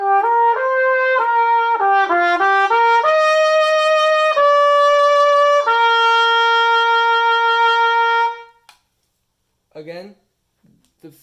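Trumpet playing the bar 23 passage of a song, a clear melodic line of stepped notes moving up and down before settling into long held tones, ending in a brief pause and a few short vocal sounds.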